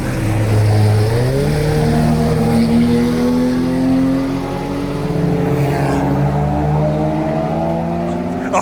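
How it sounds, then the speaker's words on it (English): Cars racing past on the Nürburgring Nordschleife, their engines droning loud and close, with the pitch climbing as each one accelerates through the section in a continuous run of pass-bys. "at least we have some really nice VIP seats here to watch some cars fly by"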